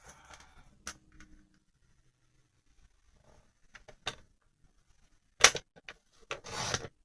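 Paper craft material for a bag and tag project being trimmed to size, heard as faint, sparse snips and rubs with long quiet gaps, ending in a louder cut and a scraping rustle near the end.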